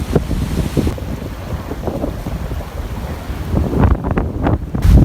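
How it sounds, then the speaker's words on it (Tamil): Sea waves crash and wash onto the shore during a cyclone at Point Pedro, a continuous loud roar of surf heavily buffeted by wind noise against the microphone. "கடல் அலை வச்சுன்னா அப்படி பயங்கரமாக அடித்து கொண்டு இருக்குது"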